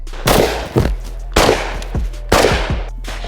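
Three sharp gunshots from rapid snap-shooting firearms training ring out about a second apart, each loud and close with a short echoing tail, no talking.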